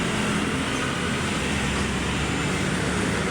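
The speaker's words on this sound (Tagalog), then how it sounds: "Maingay lang dito, guys. Maraming sasakyan." Dense, steady roar of heavy road traffic along Roxas Boulevard in Manila, a continuous loud wash of passing vehicles with no pauses or clear individual events.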